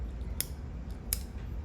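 Small scissors on a Swiss Army style tool snip twice, two short crisp metallic clicks spaced under a second apart, close and quiet over low background hum.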